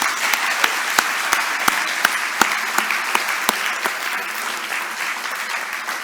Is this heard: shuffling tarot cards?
no